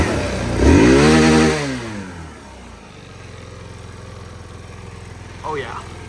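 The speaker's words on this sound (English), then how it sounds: "I just let the bike warm up for a while." A motorcycle warming up: the engine swells in one rising and falling rev, then settles into a steady, low idle that runs on alone.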